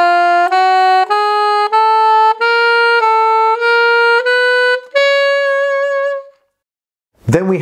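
A long, flowing phrase on alto saxophone unfolds as a steady chain of close, bright notes that fades out before a brief voice cuts in at the end.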